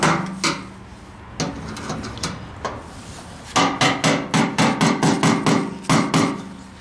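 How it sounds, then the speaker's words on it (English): Ball peen hammer striking metal during fuel tank work on a 1992 GMC Sierra 1500 4X4, a series of sharp, close metallic blows, sparse at first, then a rapid run of about ten evenly spaced hits. "Got the ball peen hammer."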